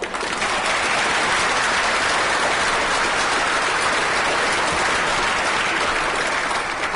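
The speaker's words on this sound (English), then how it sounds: "A round of applause for them." Sustained, dense applause from a council chamber audience at a mayor-making ceremony, saluting a football team under David Wagner for staying in the division; steady, loud clapping that fills the space without pause.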